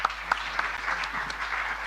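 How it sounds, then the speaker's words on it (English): Audience applause at the official opening of an annual general meeting, a steady wash of many hands clapping for a leaders panel, sustained and fairly even for the whole stretch with a few sharper claps standing out near the start. "another big round of applause for our leaders panel"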